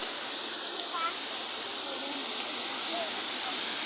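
Steady broadband rush of a strong stream current on the trail to Mayang Falls, Barangay Conchu, a constant wash of water running throughout, with a few faint voices mixed in.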